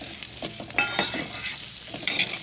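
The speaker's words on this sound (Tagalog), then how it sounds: "So kasamang ginigisa yung pork lungs dito sa bawang sibuyas." Pork lungs sautéing with garlic and onion in a pan at a campsite, a steady sizzle and frying crackle broken by repeated scraping stirs of a utensil against the pan, close and clear.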